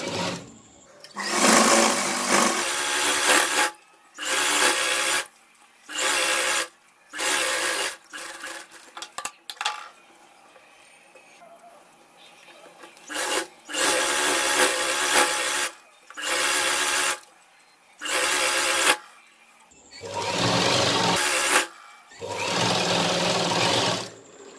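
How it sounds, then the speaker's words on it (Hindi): Sewing machine running in repeated bursts as it stitches the side seams of a ladies' palazzo pant, loud and close, with pauses between runs and a quieter stretch of handling in the middle. "सेम इसी तरह से सिलाई दोनों साइड लगाएंगे"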